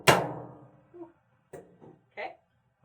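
A hammer taps a gas tube drift pin out of an A2 rifle in a few light, separate metallic knocks spread over a few seconds, with quiet speech in between.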